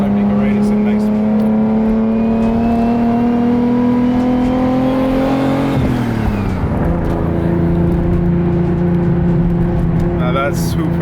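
A Nissan Skyline R34 GTR making about 800 wheel horsepower accelerates hard from inside the cabin, its exhaust note rising in a smooth climbing tone, dropping at a gear shift, then pulling up again.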